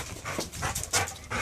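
Dogs panting hard and fast while playing outdoors, close and fairly quiet, with rapid breathy huffs and a faint whimper in between.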